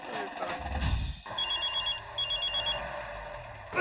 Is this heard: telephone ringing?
yes